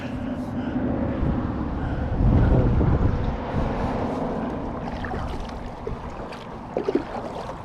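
Gusty wind buffeting the microphone out on open water in a canoe, a rough steady rumble with a stronger surge partway through and small splashes and knocks near the end.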